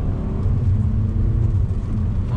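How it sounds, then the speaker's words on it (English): A 2019 Mazda 3 all-wheel-drive hatchback with a manual gearbox pulling hard in first gear on twisty roads, a loud close engine rumble rising steadily throughout. "one last little rip through some twisties in this Mazda 3 with all-wheel drive, on throttle, first gear, manual shift"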